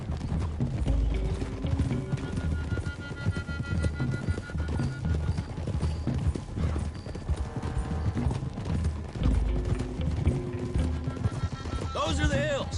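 Horses galloping in the video game Red Dead Redemption 2, a steady rapid clip-clop of several sets of hooves on a hill road, loud and close, running under spoken dialogue with an occasional whinny.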